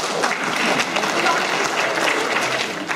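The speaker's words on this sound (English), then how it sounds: "yes, y'all can clap." An audience at a summer learning program graduation breaks into applause, a full, steady patter of many hands clapping throughout.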